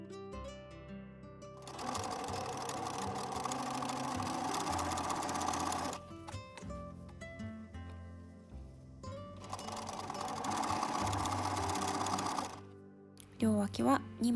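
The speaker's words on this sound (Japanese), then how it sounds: "スカート布2枚を重ねて両脇を縫っていきます。" A sewing machine runs in two long bursts, stitching the side seams of two stacked skirt panels for a loose elastic-waist blousing dress, with a pause between bursts and brief handling noise at the end.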